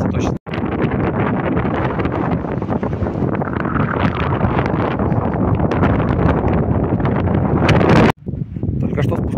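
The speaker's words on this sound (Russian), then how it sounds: "ветер усиливается точно." Strong wind in a mountain gorge below the Zugspitze roars continuously across the microphone, loud and buffeting, with a brief drop near the start and another near the end.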